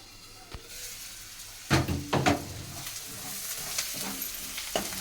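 Onions frying in a pan for brinjal curry give a low sizzle, broken by a few sharp clatters of a spoon or utensil against the pan partway through, close by.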